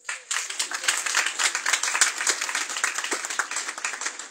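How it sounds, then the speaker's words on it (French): Applause breaks out among the audience at an Assumption vigil teaching on Mary, Mother of Christian Charity, with a room of people clapping in a brisk, scattered rhythm that starts suddenly and carries on steadily. "Je pense qu'on peut les applaudir."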